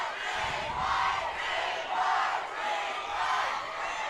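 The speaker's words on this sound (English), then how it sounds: "Spirit Crowd is getting into it. Loud." A high school football crowd at a Ste. Gen. versus Dexter game roars loudly and continuously, swelling in waves of cheering and yelling with no clear speech on top.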